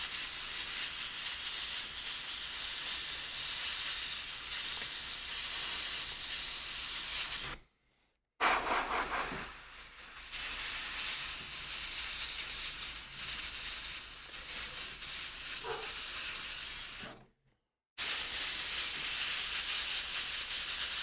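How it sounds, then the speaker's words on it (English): Airbrush spraying paint on a latex mask, a close, steady airy hiss that runs continuously, cutting out twice for a moment before resuming. "if you're new to airbrushing and you're struggling, you know, with the control issues of being able to spray right where you want the paint"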